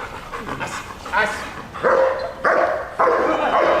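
Dog barking in repeated bursts during a training session, several loud barks near the end over a background of people talking.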